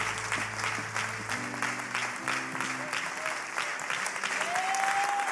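Applause fills a church service, sustained clapping from a congregation with a few voices calling out over it, swelling slightly louder toward the end.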